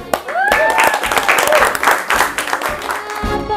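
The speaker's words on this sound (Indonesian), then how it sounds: "Tepuk tangan buat kita semua" A group claps together during a behind-the-scenes shoot for a broadcasting and film department profile, dense and close, with voices mixed in over the clapping.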